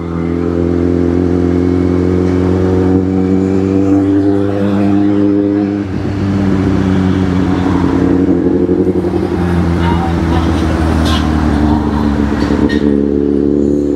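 A Kawasaki Z800 motorcycle engine runs loud and close throughout, its steady low drone shifting at the midpoint into a rising, accelerating roar.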